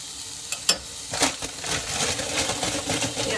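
Spinach hitting melted butter in a hot pan, a couple of sharp clinks followed by a steady, moderate crackling sizzle.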